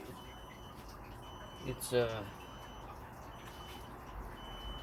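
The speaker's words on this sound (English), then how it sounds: "if you're picking that up on there, that real subtle beeping, just try to ignore it" A faint, steady electronic beeping like a distant smoke alarm runs quietly in the background of an indoor space, with a brief burst of speech partway through.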